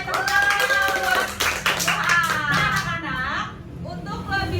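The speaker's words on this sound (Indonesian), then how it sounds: "tepuk tangan buat" A classroom group claps for children after a science lesson on changes of state, the patter mixed under lively talk and children's voices.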